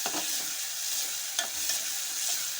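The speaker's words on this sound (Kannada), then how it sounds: "ಇದು ಮೆತ್ತಗಾಗಿಂದ ಬದ್ನಿಕಾಯಿ ಹಾಕಿ ಕಲಿಸ್ಬೇಕು" Brinjal being stirred into a simmering curry for palya: a spoon scrapes and turns the pieces close up over a continuous bubbling sizzle, with no one speaking.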